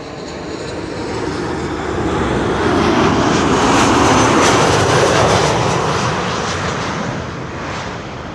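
A Transavia airliner lands at Schiphol, its jet roar building from a distance, peaking loud and broadband as it passes close overhead, then slowly fading away with no talk.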